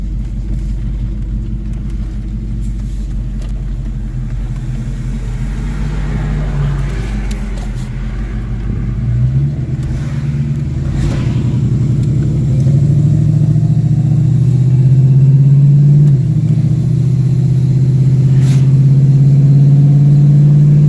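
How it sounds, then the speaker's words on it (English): Small car four-wheeling through muddy, rain-soaked terrain, heard from inside: a steady low engine rumble that rises and strains as it pushes through the mess, with no talking. "See how it does four-wheeling through this mess."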